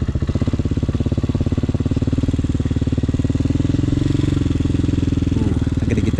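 A street-legal dirt bike engine runs loud and close, a rapid pulsing putter holding steady as the bike rides along.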